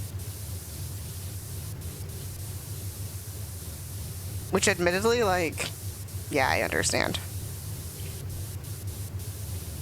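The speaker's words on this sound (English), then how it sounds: "Power wash sounds." A power washer sprays in the Powerwash Simulator 2 video game, a steady hissing wash of noise that runs throughout, with a person talking briefly over it in two short bursts.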